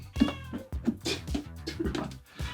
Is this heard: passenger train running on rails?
no